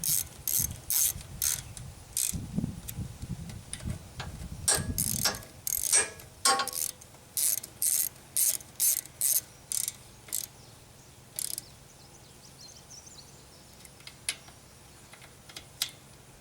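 A ratchet wrench clicks in quick bursts while tightening bolts on an engine's overhead valves, with short rhythmic ratcheting runs separated by pauses, close and fairly quiet.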